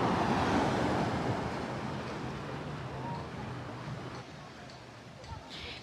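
Calm ocean surf rolls steadily at Conchas Chinas beach in Puerto Vallarta, a continuous broad wash with some wind, fairly loud and close, gradually easing over the span.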